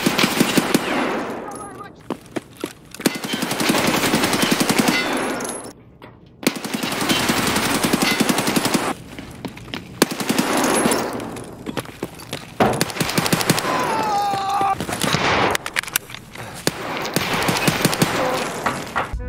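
Automatic weapon fire in the video game Escape From Tarkov, loud bursts of rapid shots repeating in several separate volleys across the clip, close and dominant with short gaps between.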